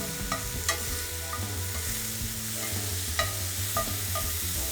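Mushrooms fry in a hot pan with a steady, close sizzle, with a few light clicks of tongs moving them around and no speech.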